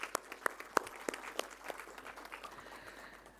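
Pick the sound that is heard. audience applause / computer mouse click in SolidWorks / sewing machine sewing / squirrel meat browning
audience applause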